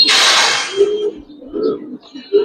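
Gribaz and colouring pigeons cooing close by in a few soft, low coos spaced through the clip, after a brief burst of rustling at the start.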